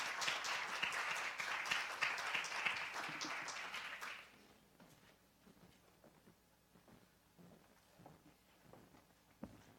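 An audience at a human rights conference applauds to welcome a professor to the podium, dense clapping for about four seconds that stops abruptly, followed by faint footsteps and shuffling in a quiet hall.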